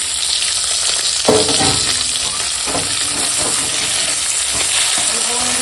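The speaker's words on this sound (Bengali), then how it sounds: "তেলেই এখন দিয়ে দেবো কেটে রাখা পেঁয়াজ পেঁয়াজটা একটু ভেজে নেব" Chopped onion sizzles steadily in hot oil in a home kitchen, a loud continuous frying hiss broken by a few clattering stirs.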